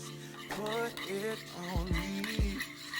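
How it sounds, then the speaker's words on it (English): Seasoning being stirred into a seafood boil in a pot, with several distinct scraping clinks and knocks from the utensil against the pot over a steady background, plus some tonal kitchen noise. "you just want to stir it up"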